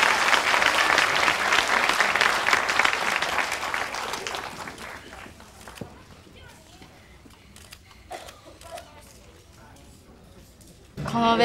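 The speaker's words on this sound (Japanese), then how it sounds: "大きな拍手をお願いいたします" Applause from a women's pro wrestling crowd at an Osaka hall after a junior heavyweight tag title match, dense and loud for about five seconds before thinning into scattered claps, with talking near the end.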